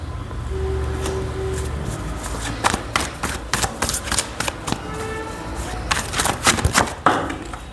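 Tarot cards being shuffled by hand, a run of crisp riffling flutters and taps in quick bursts, fairly close, over low background hum and a steady murmur.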